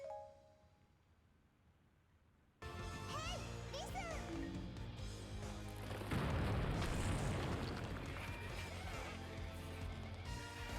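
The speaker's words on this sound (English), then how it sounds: "Bombs." Booming bomb blasts sound in a Zelda video game: a sudden loud burst after quiet, then rumbling explosions and debris noise with game sound effects, while a voice talks under them.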